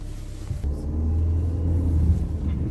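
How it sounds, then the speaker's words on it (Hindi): A truck crosses on the snowy Tanglang La mountain pass road, its engine rising to a loud, close, low rumble after a quieter start and holding steady as it passes. "तो गाइस अब ये ट्रक क्रॉसिंग होगा"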